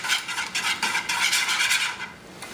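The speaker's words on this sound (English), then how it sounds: "we'll whisk it up again together a little bit before we add our milk" Eggs with cinnamon and nutmeg whisked in a bowl, rapid rhythmic clinking and swishing of the whisk against the bowl, close and steady, alone.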